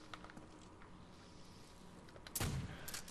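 A gunshot in Call of Duty Zombies on the Der Riese map, one sharp blast near the end after quiet, faint game ambience.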